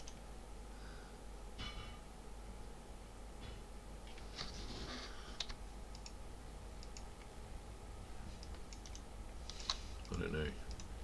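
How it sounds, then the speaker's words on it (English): A computer mouse right-clicking while working in Gcad CAD software: a few faint, sparse clicks, close to the mic, against a steady background hiss. "So I'm right clicking,"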